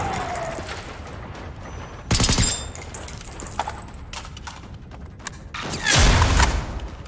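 Gunfire in the video game Generation Zero, a few sharp bursts of shots, loud and close, spaced apart over a quiet game ambience.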